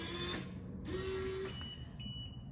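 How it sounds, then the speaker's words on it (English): A keyless entry deadbolt lock relocks itself after a timed delay, its motor giving a brief, steady whirring hum of under a second, quiet and close against faint room hum. "the lock closed all by itself after 20 seconds of delay"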